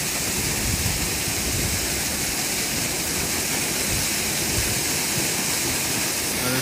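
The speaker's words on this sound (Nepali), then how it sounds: "देख्न सक्नुहुन्छ दामी छ झर्ना हाम्रो शेरू भाइ" A waterfall on a forest path pours in a steady, loud, broadband rush with no break, close by and alone, with no voices.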